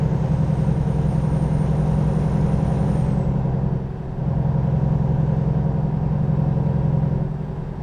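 A new Volvo semi truck engine in American Truck Simulator drones loud and steady with a deep low hum, briefly dipping around the middle before resuming its constant rumble, with a faint whistle-like tone fading out early.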